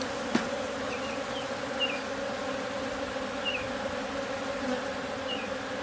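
Agitated honeybees swarm around an opened hive in May, a steady, dense buzzing drone from many insects close by, with brief louder passes and a few clicks and knocks from hive work.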